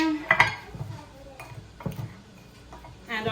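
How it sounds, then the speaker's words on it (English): Seasonings for a seafood boil sauce being mixed in a dish, heard as scattered clinks and scraping knocks of a utensil against the container, loud in short bursts with quieter gaps. "I'm gonna mix this all up and I'll show you how much seasoning I use out of this"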